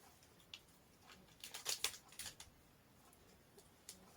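Scissors cutting open a package, a few quiet snips and crinkles clustered in the middle, faint and close, with near silence around them.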